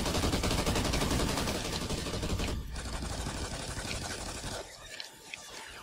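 Rapid pistol gunfire in the video game Call of Duty Ghosts Extinction crackles in dense, loud bursts that thin out toward the end, with game noise underneath.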